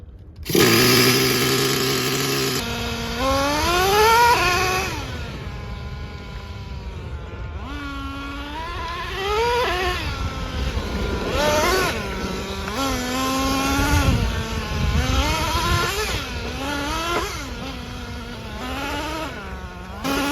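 Traxxas T-Maxx 3.3 nitro RC car on a big dirt track, its small engine buzzing and whining loudly throughout, revving up and down in repeated rising and falling pitch sweeps as the car accelerates and lets off, close to the microphone.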